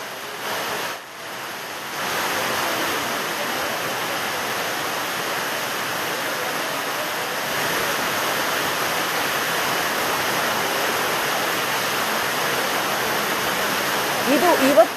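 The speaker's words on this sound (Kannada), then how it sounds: "ರೈಲ್ವೆ ನಿಲ್ದಾಣದ ಒಳಗೆಲ್ಲ ಸಂಪೂರ್ಣ ನೀರು ತುಂಬಿಬಿಟ್ಟಿದೆ, ಸೋರ್ತಾ ಇದೆ ಎಲ್ಲ ಕಡೆ." Rainwater leaks inside Koppal railway station, a steady, loud, broadband rush of pouring water lasting throughout, with a brief dip near the start and a small swell at the end.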